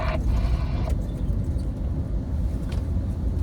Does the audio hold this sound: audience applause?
no